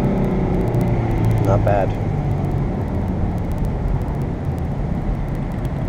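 A Ford Mustang convertible accelerates on a road in Florida, its engine and road noise forming a steady, loud rumble inside the cabin while a person briefly speaks.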